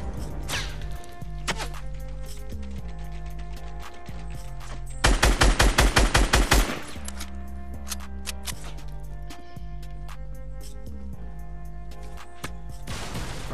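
Gunfire from an unseen enemy in a video game: a steady stream of shots throughout, with one loud rapid burst of automatic fire in the middle, close and punchy over continuous game background.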